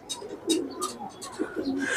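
A pigeon coos softly in several short, rounded bursts, close by but fairly quiet, with faint chirps and a little background noise between the calls.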